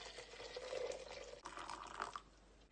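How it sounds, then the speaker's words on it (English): Boiled water poured into a teapot for Moroccan mint tea, a soft continuous trickling splash that shifts upward in pitch as the pot fills, quiet and close with no talking. "we're going to fill up the teapot with the boiled water"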